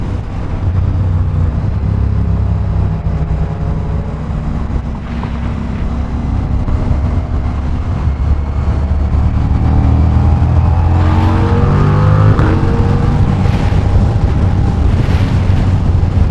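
A Ducati Diavel V4 motorcycle pulls hard toward top speed, its engine note rising through the gears with brief shift burps, half buried in heavy wind buffeting on the microphone.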